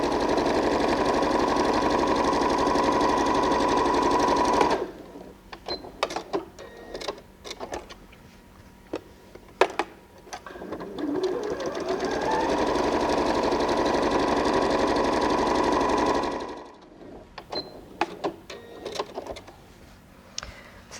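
A sewing machine freehand quilting wavy lines through scrap fabrics for a patchwork cushion runs in two long, steady bursts of motor whir, separated by quieter stretches of clicks and handling noises.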